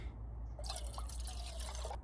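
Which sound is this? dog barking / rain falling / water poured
water poured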